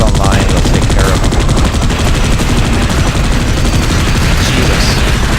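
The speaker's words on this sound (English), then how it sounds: "I got this turret online. We'll take care of them." Loud, unbroken machine-gun fire from a turret shooting at aliens in Space Beast Terror Fright, a relentless rapid stream of shots filling the whole stretch.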